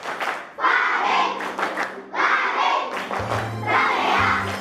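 A class of schoolchildren performs a clapping chant, shouting words in bursts between rhythmic claps, loud and close, with a low hum underneath.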